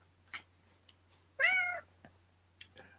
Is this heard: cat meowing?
yes